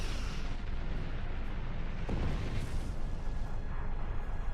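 A starship fires high-yield torpedoes in the space combat game Star Trek Online, heard as a dense, continuous roar of booming blasts and rumbling explosions at close range.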